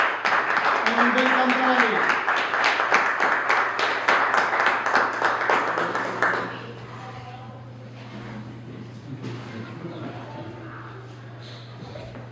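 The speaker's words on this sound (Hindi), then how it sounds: "आइए तालियों के साथ" A Pentecostal church congregation at a Sunday prayer service claps to welcome a speaker, with dense, steady applause for about six seconds that then fades into a quieter room where someone speaks over a low hum.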